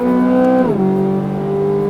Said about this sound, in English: Engine just revs so freely.